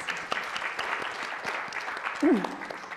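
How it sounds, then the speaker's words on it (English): Audience at a women-in-cybersecurity conference session applauding, a steady patter of many hands clapping at moderate volume, with a voice briefly heard over it near the end. "Give us a round of applause for our fantastic speakers."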